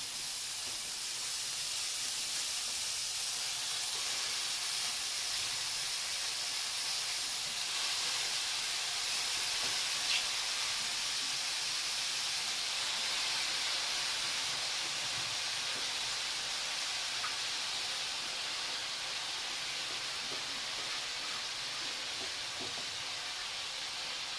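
Chopped spinach sizzles in a pan over fried onion for a garlic-and-green-chilli spinach bhaji, a steady, bright cooking hiss that holds evenly throughout with no talking.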